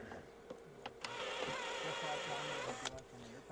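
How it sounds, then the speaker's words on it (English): Rivet nuts being set into stripped lid screw holes on a Kenrich Eagle 200 amplifier, a sustained mechanical whirring grind lasting a couple of seconds, flanked by sharp clicks, close and moderately loud with no talking. "I'm putting rivnuts in her, rivet nuts. And it squishes down and gets tight in the hole."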